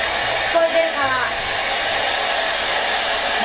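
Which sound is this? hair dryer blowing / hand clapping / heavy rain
hair dryer blowing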